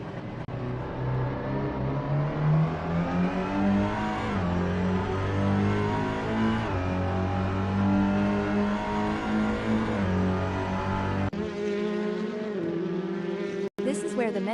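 Race cars in a touring car sim racing game speed past Parabolica, with a continuous loud engine drone whose pitch rises and falls through gear changes and passes, ending in a different engine tone and a sharp click.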